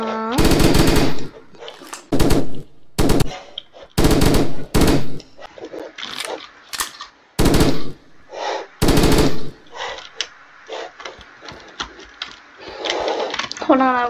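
Heavy barrel gun in the Brick Rigs video game zombie mode firing in repeated loud bursts of rapid shots, separated by short pauses, with someone speaking between the bursts.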